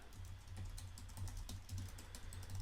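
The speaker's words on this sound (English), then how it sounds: "you probably won't be typing as fast as I am" Fast, steady typing on a computer keyboard while coding an iOS app in Xcode, with close rapid key clicks and no voices.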